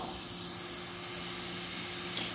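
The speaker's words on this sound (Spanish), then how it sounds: "Ahora vamos a empezar friendo la cebolla." Chopped onion sizzles in a frying pan with two spoonfuls of oil, a steady loud hiss and spatter that goes on unbroken with no talking.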